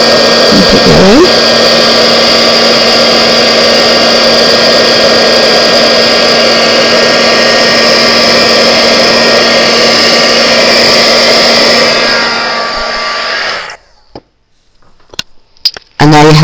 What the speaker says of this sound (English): Don't keep your heat gun in one place, otherwise you will scorch the embossing powder.